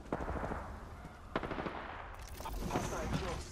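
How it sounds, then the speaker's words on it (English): Rapid video-game gunfire crackles in bursts, with automatic shots layered over a busy battle mix and a brief louder blast midway. "Shots fired at me."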